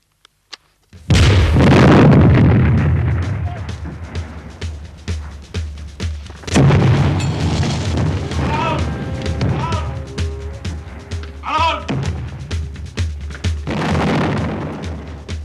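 Bazooka and grenade explosions in a war film: a heavy, loud blast rolls into sustained rumble, and a second boom follows with scattered crackling, shouts and voices mixed in.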